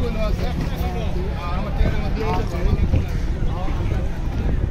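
Outdoor bustle at the Mawa launch ferry ghat, with steady wind rumble and boat engine drone under a mix of nearby voices and crowd chatter.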